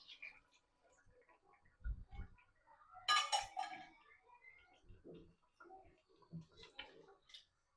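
Spoon stirring mutton curry in a pot after hot water is added, giving a few sparse metallic clinks and scrapes, quiet and close, with pauses between strokes.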